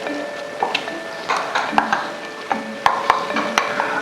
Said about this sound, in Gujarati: હવે આપણે આમાં એક વાટકો સૂકી ડુંગળી એડ કરી દઈશું.